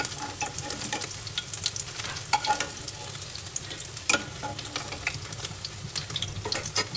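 Pointed gourd and potatoes frying in a pan, with a steady oily sizzle broken by repeated scraping clicks of a spatula stirring, close up and with no talking.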